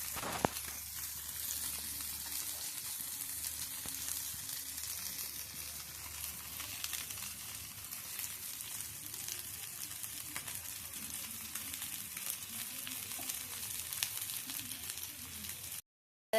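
Mangalore-style fish fry, a bolanjir fish sizzling in a pan and being turned, gives a faint, even hiss with occasional small clicks, ending abruptly.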